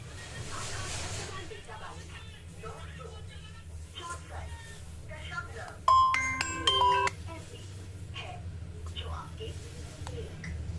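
A repaired Mi Y1 phone plays a short, clear ringtone-like melody of bright tones lasting about a second, over a steady low background hum and faint room noise.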